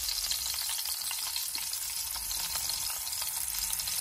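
Ginger frying in a hot pan in a home kitchen gives a steady, loud, dense sizzle that holds unbroken for four seconds, with faint stirring scrapes now and then and no talk.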